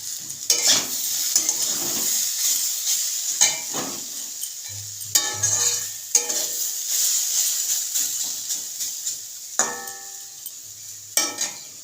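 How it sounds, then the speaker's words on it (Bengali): Kohlrabi and potatoes fry in a pan with a steady sizzle, interrupted by repeated clattering scrapes and knocks of a utensil against the pan over about twelve seconds. "এদিকে ভাজছি ওলকপি আলু"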